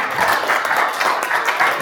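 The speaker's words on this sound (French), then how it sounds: "Je pense que les militants peuvent s'applaudir aussi" Activists gathered at a press conference on essential workers applaud themselves, a dense, steady wash of clapping from a sizeable group that sounds fairly close and continuous, without speech over it.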